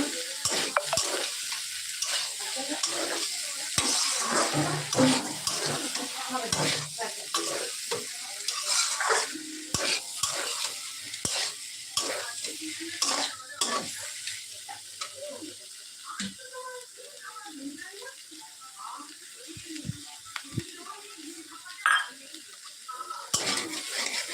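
Boiled soybean chunks are stir-fried in a pan, with continuous sizzling under repeated scraping and clanking of a utensil against the pan, close and busy throughout, with faint talk in places.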